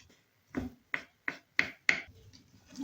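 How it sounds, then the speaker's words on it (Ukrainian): A knife dices sausage into small cubes on a board, giving five crisp, evenly spaced chops close up with no talk. "Поріжемо ковбаску"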